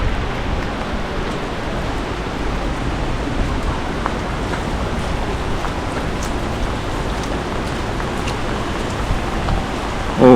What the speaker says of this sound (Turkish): Güzel bir yağmur var ama.